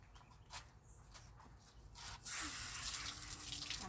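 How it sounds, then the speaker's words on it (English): Romaine lettuce leaves rinsed under a running kitchen tap, with a few handling rubs and drips before the water stream surges in and runs steadily, close and fairly loud. "I'm going to rinse everything."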